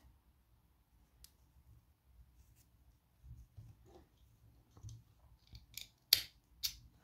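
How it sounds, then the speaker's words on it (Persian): Scissors snip knitting yarn in a few short, crisp clicks toward the end, preceded by quiet handling and rustling, close and fairly soft, with no talking. "قیچیش کنید."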